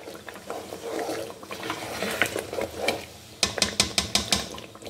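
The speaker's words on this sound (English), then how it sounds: "I'm going to stir it with the bay leaf." Blended pepper with bay leaf is stirred in a pot while cooking jollof rice, giving soft wet sloshing followed by a quick series of spoon clinks against the pot, close, no talking.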